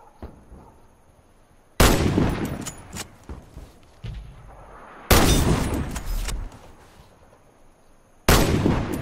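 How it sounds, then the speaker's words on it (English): Three loud, sharp sniper rifle shots in the Warface first-person shooter, each a sudden blast with a rumbling tail, spaced a few seconds apart with quiet stretches between. "Hit all the targets with your sniper rifle."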